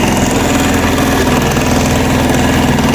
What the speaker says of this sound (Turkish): Tıkı tıkı tıkı tıkı diye sesler geliyor.